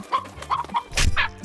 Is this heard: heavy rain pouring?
no